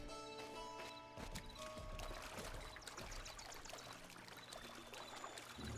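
Ghostly horse hooves clip-clop steadily in Zelda: Breath of the Wild, a continuous run of fairly loud, even beats over a busy layer of game music and ambience, with no talking.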